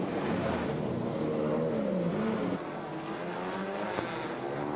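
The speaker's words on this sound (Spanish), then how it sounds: "los coches arrancaban de una supuesta parrilla de salida" Race cars on the Alcañiz street circuit in 1998, a loud continuous engine drone with rising and falling revs that dips in level midway, heard without speech.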